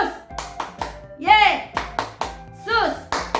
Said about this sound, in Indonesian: Yuk kita kasih tepuk tangan dulu buat Tuhan Yesus ya.